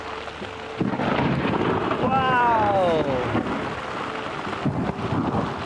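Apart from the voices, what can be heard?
loud thunder during hail storm in Simien Mountains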